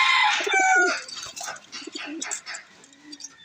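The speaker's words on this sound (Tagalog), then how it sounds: "May dumating tayo ibon." A racing pigeon calls and coos nearby in short bursts as it arrives at its loft, with faint fluttering and soft background noise; a brief voice may be heard.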